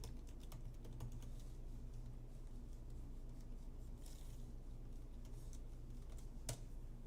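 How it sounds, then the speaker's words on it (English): Faint keyboard typing as a password is entered on a Mac while Xcode opens, a few soft scattered key taps over a steady background hum, no voices. "Type my password."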